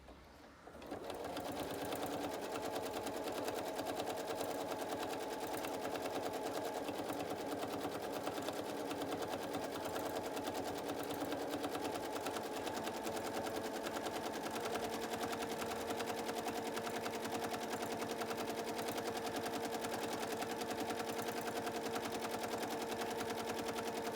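A sewing machine stitches a zigzag stipple quilting pattern in one long, steady run. It keeps up a rapid, even mechanical whir and clatter at a constant loud level after a short start-up, with no voices.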